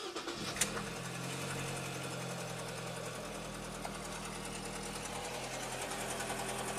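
A Ford EcoBoost engine with fault codes P0106 and P2196 starts and settles into a steady, loud idle, its continuous rumble unbroken and with no talking over it.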